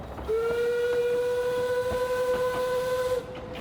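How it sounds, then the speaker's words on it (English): A semi-spectral commuter train loaded with ghosts and undead passes in a fantasy world, its whistle sounding one long, steady, clear tone for about three seconds over a low rumble. "immediately a commuter train goes past you"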